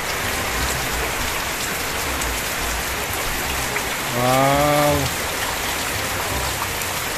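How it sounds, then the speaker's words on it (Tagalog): Heavy rain pours steadily on a farm, a dense, even hiss that fills the whole stretch, with a brief voiced exclamation rising over the downpour partway through. "Lakas ang ulan."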